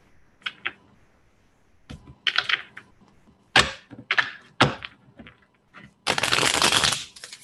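Small cards being shuffled at a tarot-style reading table, with scattered soft taps and riffles building to a loud, sustained burst of shuffling near the end, close by and without talk.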